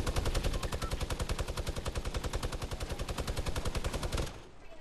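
Fortnite gunfire comes as a long, rapid automatic burst of evenly spaced, loud shots. It holds for about four seconds, then stops abruptly, leaving a quieter tail.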